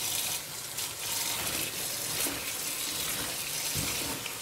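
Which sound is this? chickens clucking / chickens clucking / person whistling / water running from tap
water running from tap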